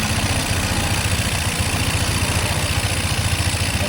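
A Keeway Icon 110cc scooter engine, still cold and under restoration, idles steadily close by with an even, rapid low putter and no voices over it.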